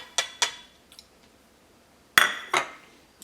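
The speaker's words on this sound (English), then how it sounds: "you're going to want to take the chunks and just dump them right into the pot" Chopped bacon chunks are dumped into a pot, heard as a few sharp clinks and clatters: two quick hits, a pause, then two louder knocks near the end.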